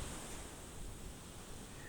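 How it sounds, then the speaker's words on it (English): Soft, continuous wash of ocean surf lapping against a beach, a broad steady hiss with gentle low rumble and no distinct wave breaks, faint and even throughout with no voices. "There's the sound of the ocean lapping against the beach, and the leaves rustling in the breeze"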